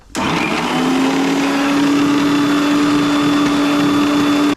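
A kitchen mixer grinder runs steadily, blending peanuts into peanut butter with water added to thin the paste, its high motor whine loud and constant for several seconds before cutting off.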